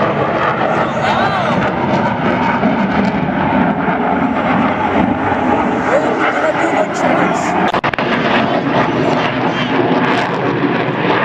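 A fixed-wing airplane passes low overhead at an air show, its engine roaring loud and steady throughout, with excited spectators talking and exclaiming beneath the noise.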